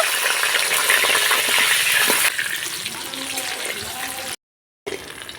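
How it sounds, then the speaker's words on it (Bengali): Eggplant frying in hot oil for a Bengali shukto gives a loud, steady sizzle that drops to a softer crackle partway through, with a brief silent gap near the end. "বেগুনগুলোকে আমি ভেজে নেব"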